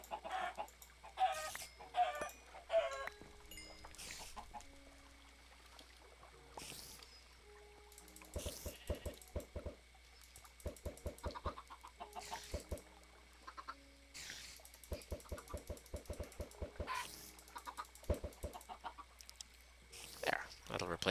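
Minecraft chickens cluck and squawk in repeated bursts over a steady low hum, with sharp rhythmic clicking patterns in between.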